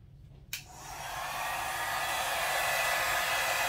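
A hair dryer clicks on and roars steadily as it blows out red and pink acrylic paint in a Dutch pour, a continuous close whoosh building over the first second.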